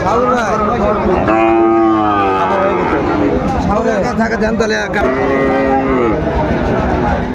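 Sahiwal cattle low repeatedly at a busy cattle market, their loud, drawn-out moos overlapping one another close by while people talk throughout.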